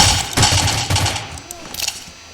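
Rapid bursts of gunfire from a gun in a video game, several close, loud volleys in quick succession with a faint voice underneath.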